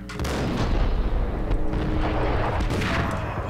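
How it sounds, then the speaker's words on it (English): Beretta pistol shots ring out in Max Payne amid gothic scenery, the shooter firing from above, booming reports over a dense, continuous rumble of game effects. "And there's a Beretta being fired at me, he's above me."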